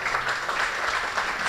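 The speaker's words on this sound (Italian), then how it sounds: "quello di Massimo Masiello, che accoglierei con un applauso." Indoor audience applause at an evening UNESCO Telethon event, dense steady clapping from a crowd throughout, heard alone without talk.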